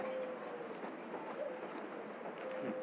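A domestic pigeon of an imported line, a young bird with a rambon head, gives soft, low coos at close range over a faint background hum, with no talk.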